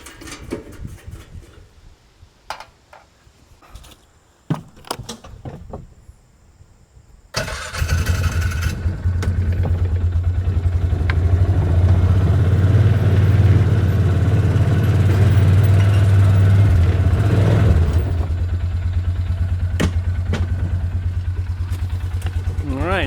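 A MechMaxx wood chipper's gas engine fires up about seven seconds in after faint preceding noises, then runs loud and steady with a deep, constant drone for the rest of the clip.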